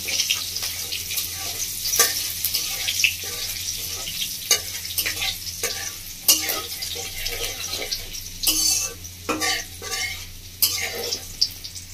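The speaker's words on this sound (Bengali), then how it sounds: "ফোড়নটা যতক্ষণ না মিষ্টি গন্ধ হচ্ছে ততক্ষণ ভাজতে থাকবেন" Whole spices for a Bengali village-style doi begun sputter and crackle in oil, with irregular loud pops and bursts of spatter over a continuous sizzle.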